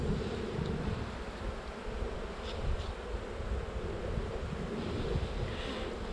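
Honeybees buzzing at an early-spring hive inspection outdoors, a steady close hum that continues without a break, with some breezy rustle underneath.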